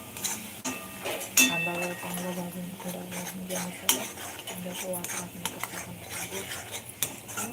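A metal spoon scrapes and clinks against a pan while masala with turmeric sautés for matar paneer, giving repeated close scraping strokes and sharp taps over a low sizzle, with a voice speaking at times.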